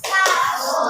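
A group of children claps their hands during a classroom exercise, giving a short dense burst of close, bright clapping that rings for under a second, with a bit of young voices mixed in.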